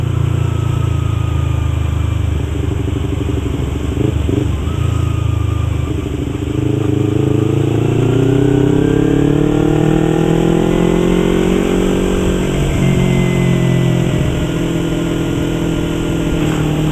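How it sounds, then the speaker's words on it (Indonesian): A 2015 Yamaha YZF R25 motorcycle's exhaust sounds loud and close on a test ride, its engine note climbing and falling through revs, with a rising pull in the second half. "Dan suara knalpotnya"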